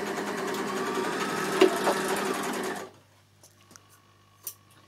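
A Bernina L450 overlocker runs along a fabric edge beside its trimming knife, giving a steady close whir for about three seconds before stopping, followed by a few faint clicks.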